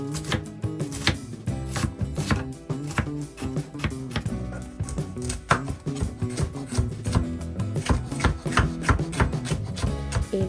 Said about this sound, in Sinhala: ඊට පස්සේ මේ බෙල් පෙපර් දෙක හොඳින් පොඩි කෑලි වලට කපා ගන්නවා